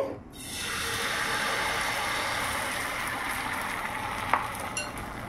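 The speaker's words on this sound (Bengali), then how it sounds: "ভালো করে এপিট ওপিট করে আমরা এটা ভেজে নেব" Quinoa chilla batter frying in a pan gives a steady, close, even sizzle that holds throughout, broken near the end by a couple of small ticks.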